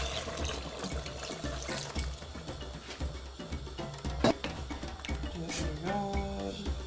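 Water is poured into a pot holding palm oil, a soft continuous trickle and splash under faint clatter, with a brief brighter clink partway through.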